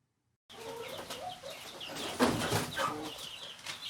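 Young chicks and hens in a backyard coop clucking and cheeping close by, a busy run of short calls after a silent start, with a louder burst near the middle.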